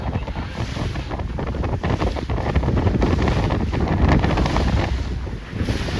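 Steady wind roars across the microphone on an open C420 sailing dinghy, with rushing water and rigging noise underneath, continuous and loud throughout.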